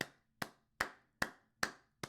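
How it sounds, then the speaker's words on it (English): A single person clapping their hands six times at an even, unhurried pace, each clap sharp, close and isolated, with silence between claps and no voices. "Gotta clap it up for them."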